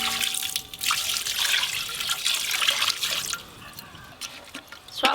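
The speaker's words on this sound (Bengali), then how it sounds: "এবারে জলের পরিমাণ একটু বেশি দেব, এই জলটাই পরে বিরিয়ানিতে লাগবে।" Water poured from a container into a biryani marinade of yogurt, chili powder and salt, a steady close splashing trickle that wavers in strength, with a few faint clinks.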